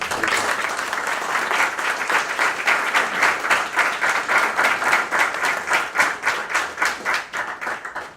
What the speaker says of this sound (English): give these good people and organizations a round of applause